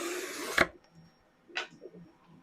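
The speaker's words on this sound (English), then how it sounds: "Take my trim tool," A double-edged trim tool shaves off excess edge banding in two short scraping strokes about a second apart, the first sharper and louder, with a quiet room between them.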